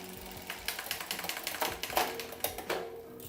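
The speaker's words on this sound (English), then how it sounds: "each click of the shifter corresponds to one sprocket on the cassette" Gear shifter on a Kinesis e-bike clicking through the rear cassette sprockets, a run of sharp, close mechanical clicks in quick irregular succession with faint ratcheting between them.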